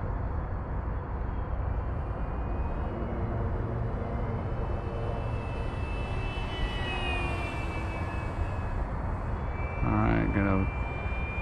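Engine of an FMS F4U Corsair 1700mm RC warbird at full throttle, a steady loud whine and roar held throughout with a rising pitch near the end, a person talking over it.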